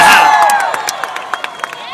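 A crowd cheers and whoops for Coach Cal in Midway, then settles into scattered claps that fade to sparse, separate hand claps, loud and close.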